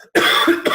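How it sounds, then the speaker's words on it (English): A single loud, close cough from someone speaking at his desk, bursting out after a brief silence and trailing into a second smaller expulsion. "I had to cough there"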